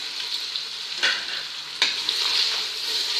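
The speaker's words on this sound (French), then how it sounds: "Et je mélange pour ne pas qu'elles collent." Drained spaghetti being stirred with olive oil in a pot: a steady soft hiss and sizzle, with two louder scraping strokes partway through, close up and without voices.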